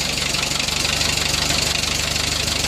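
A 70-year-old tractor engine idling steadily, a loud, even low chugging pulse with a knocking beat that runs throughout with no talk.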